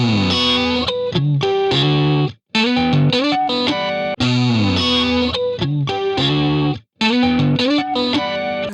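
Electric guitar through the Archetype plugin's chorus effect rings out in chimey, shimmering chords and single notes, loud and up front, broken by a few short pauses, with no voices.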